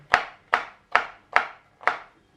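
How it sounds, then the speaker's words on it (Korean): A knife chops bell pepper on a cutting board in five evenly spaced, crisp strokes about half a second apart, close and moderately loud with no talking. "이 파프리카가 너무 길게 썰면 먹는 게 불편하더라고요"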